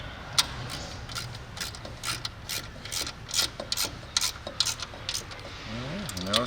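A ratchet tightens the finishing nut on a sill bolt of a pad mount transformer, with rapid metallic clicking in repeated strokes over a steady low hum of machinery nearby.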